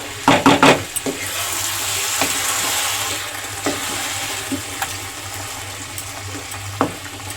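Hot water is poured into kadai chicken sizzling in a pan while it is cooked dhaba style, a steady hiss and crackle of frying with a few louder splashes and stirring clatters near the start.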